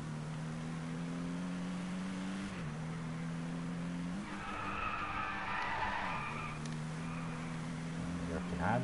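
In the Driveclub racing video game a car drifts with long tire squeals and skidding over a steady droning engine, loud and continuous with the pitch dipping and rising through the slide.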